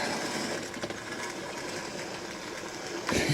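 A Hornby Dublo 3-rail model locomotive stalled on the points gives a steady electric whirring buzz, close and even, ending in a short clunk near the end.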